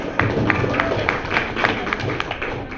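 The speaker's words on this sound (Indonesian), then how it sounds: "Oke, sekali lagi tepuk tangan." Students in a classroom clap together, a steady run of moderately loud, rhythmic claps with a low room rumble underneath.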